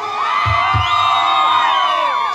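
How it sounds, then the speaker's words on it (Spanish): A large crowd of Club Cerro Porteño fans shouts and cheers at a live outdoor concert, a loud sustained roar of many voices with whoops and two low thumps early on. "El grito de la gente del Club Cerro Porteño."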